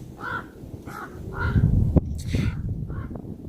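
A bird calls in a short series of harsh, crow-like caws, about five or six repeated notes spaced roughly half a second apart, fairly close and clear over a low background rumble.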